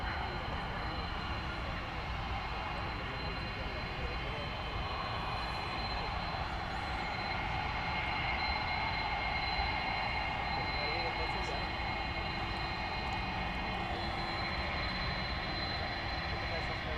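Airbus A300 jet engines roaring at an airport at night, a steady, broad, continuous rumble with a faint high whine held throughout, moderately distant and unchanging in level.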